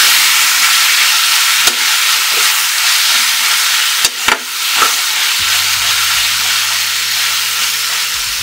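Elephant apple pickle fries loudly in a pan as it is stirred, a steady broadband sizzle and hiss with a few soft scraping knocks from the spoon.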